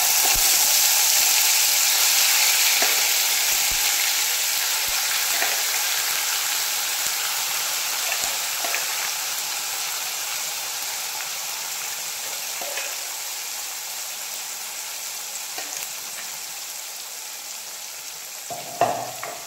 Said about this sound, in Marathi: इथं आता फोडणी घालण्यासाठी आपण कढई ठेवली आहे आणि त्याच्यामध्ये जिरे तेल टाकलं आहे आणि आता त्याच्यामध्ये आपण वाटून घेतलेला तो मसाला